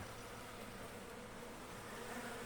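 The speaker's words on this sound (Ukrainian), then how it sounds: "Вон і трутин літає тут" Honeybee drones fly around a beehive, giving a steady, dense buzzing drone that holds evenly at close range with no talk over it.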